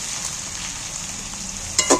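Onions and chicken pieces fry in oil with a steady close hiss, ending in a couple of brief clinking scrapes of a utensil against the pan, no speech.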